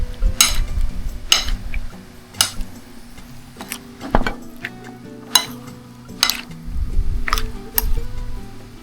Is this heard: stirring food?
yes